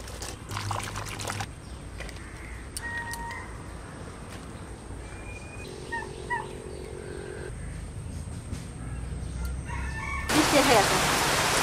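Rooster crowing amid farm chickens and ducks in a rural yard, a few distinct calls rising over steady background clucking and ambient noise, with a louder burst near the end.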